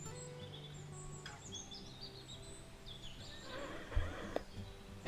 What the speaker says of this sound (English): the birds of the pristine forest below form a layered melody, chirping in different pitches and tones